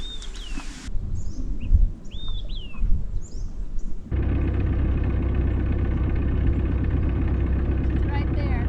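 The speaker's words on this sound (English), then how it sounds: "I'm gonna see if I can get the birds noise." Birds call near Eagle Harbor on Cypress Island, a few distinct chirps and whistled notes over a quiet background before a boat engine starts and drowns everything in a steady drone.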